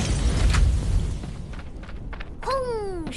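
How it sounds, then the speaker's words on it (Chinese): A grenade blows up in the mobile shooter Crossfire: Legends: a loud, low, booming burst early on that rumbles out, followed by a short voice exclamation. "轰！ 手榴弹。"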